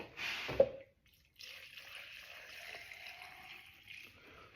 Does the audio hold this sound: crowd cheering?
no